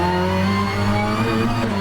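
A rear-wheel-drive Infiniti race car in the rFactor 2 racing game holds a loud, steady engine drone under power, its pitch rising slightly toward the end with no talk over it.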